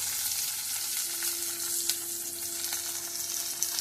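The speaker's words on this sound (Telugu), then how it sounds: "కొంచెం బ్రౌన్ కలర్ వచ్చేదాకా వేయించుకోవాలి." Onion, green chili, curry leaves and potato fry in a pan with a soft, steady sizzle, fairly quiet and close, with a faint constant hum beneath and occasional small crackles.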